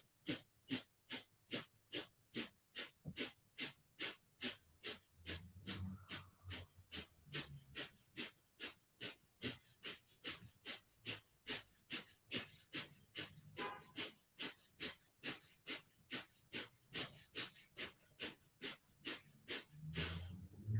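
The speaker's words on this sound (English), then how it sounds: "start your breath of fire" Rapid, forceful yoga breath of fire pumped in and out through the nose, about forty evenly spaced sharp exhalations in steady rhythm, close and clear with no talking.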